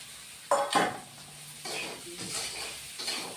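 Fried lentil dumplings (daler bori) are tossed and sautéed in a pan with a soft sizzle. Several spoon scrapes and clatters sound close up, with short gaps between them.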